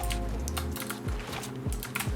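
Rapid clattering keystrokes on a computer keyboard run throughout, mixed with whooshing sound effects from a shooter video game.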